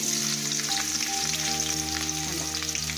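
Brinjal slices sizzle and fry steadily in hot coconut oil in a pan, a close, continuous crackling hiss with a low tonal hum running underneath.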